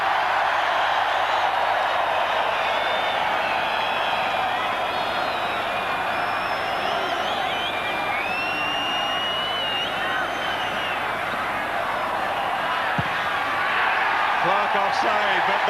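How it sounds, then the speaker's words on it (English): Rugby stadium crowd at the 1993 New Zealand versus British Lions third test roaring in a steady, dense mass near the final whistle, with commentary talking over the noise. "The whole crowd now counting down the clock."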